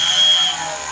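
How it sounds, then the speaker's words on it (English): A flexible shaft drill bores a hole through metal at a center punch mark, giving a steady, close, high motor whine that eases in pitch and loudness about halfway through. "To drill our hole, we're going to use a flexible shaft"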